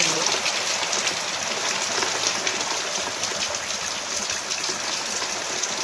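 A steady, broad wash of falling rain, loud and unbroken, like a downpour hitting the ground and nearby surfaces.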